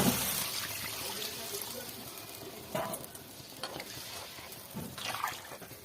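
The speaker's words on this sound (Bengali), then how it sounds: "দেখো কষানো হয়ে গেছে, এবার আমি জল দিয়ে দেবো।" Spiced potatoes for a tilapia curry sizzle and are stirred in a pan as water goes in, with a steady close frying hiss broken by several brief louder splashy bursts.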